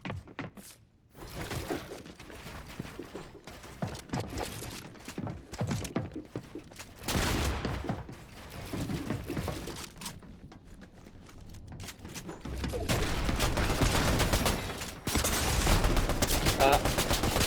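Gunfire from a weapon in a video game, bursts of rapid shots and impacts that come and go in waves, with someone talking excitedly over the action.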